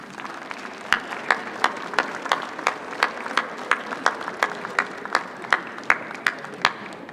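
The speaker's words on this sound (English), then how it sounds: "give them a big round of applause for all the support they've given you" Graduates and guests of a medical school commencement applaud in an auditorium, sharp claps landing in a steady, near-regular rhythm over a soft crowd murmur throughout.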